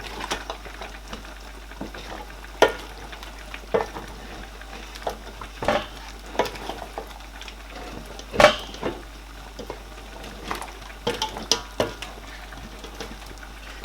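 Palm oil cooking in a pot of Ogbono soup, giving a soft low bubbling with scattered pops and occasional clinks of utensil against pot, close and quiet, no talking.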